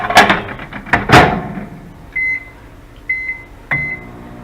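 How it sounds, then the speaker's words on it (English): Clattering kitchen noises give way to a microwave's hum as vegan sausages heat, with three short electronic beeps spaced across the clip. "Let's put it in the microwave"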